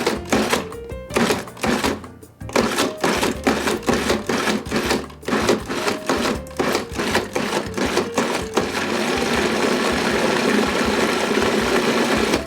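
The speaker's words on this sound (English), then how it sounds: "by pulsing it a few times and giving it a nice fluff" A food processor pulses chicken liver pâté in a rapid series of short, loud whirring bursts with brief gaps, close up, ending in a longer continuous run of blending.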